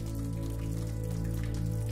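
Steady rain patters on village rooftops, a dense, continuous wash of drops with a low rumbling bed, even and unbroken throughout with no voices.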